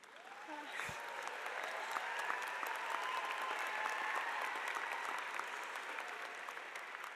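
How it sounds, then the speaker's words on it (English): A large hall audience applauds graduates at a university convocation ceremony, steady sustained clapping from a big crowd at moderate distance, even and continuous. "Let us all take great pleasure, lots of clapping"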